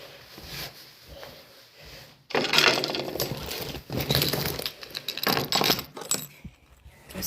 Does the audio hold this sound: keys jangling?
yes